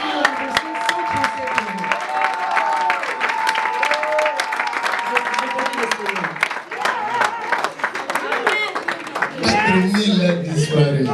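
A congregation applauds in church during a prophetic New Year's Eve night service in Roubaix: sustained, dense clapping with voices and shouts mixed throughout, swelling louder near the end.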